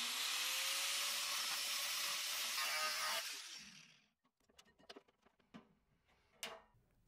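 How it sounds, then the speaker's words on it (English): An angle grinder cuts the steel edge of a DIY electric kiln lid, whining loudly and steadily for about three seconds before spinning down, followed by a series of scattered metallic knocks and clatters. "I start by cutting two slits using the hacksaw and then move on to using the angle grinder"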